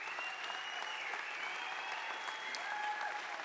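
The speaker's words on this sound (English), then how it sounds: "Give them a round of applause." Audience applause at a DC town hall event, a steady, fairly soft wash of clapping from a crowd that holds evenly throughout with a faint whistle-like tone threading through.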